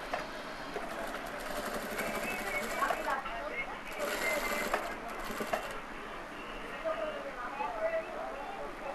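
A sewing machine runs in short bursts while stitching a shirt sleeve placket, its whirring coming and going under a person talking.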